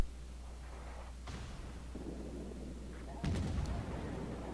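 Heavy naval guns of an upgraded Duca d'Aosta cruiser fire in World of Warships, a muffled broadband boom near 1.3 s and a louder, sustained volley from about 3.3 s over a constant low rumble.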